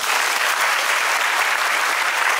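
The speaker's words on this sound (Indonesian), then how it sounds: "Tepuk tangan buat kita semua." Dense, steady applause from an audience at a motivational talk, a continuous wash of many hands clapping at full strength throughout with no voices above it.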